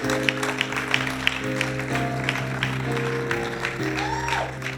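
A church congregation applauding during a sermon, sustained clapping at moderate distance layered under steady music with held keyboard tones, no clear speech.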